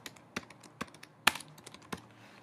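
Quick, uneven keystrokes on a Mac computer keyboard as a Terminal command is typed in OS X Mountain Lion, with sharp clicks and one heavier tap near the middle, close and clear with no talking.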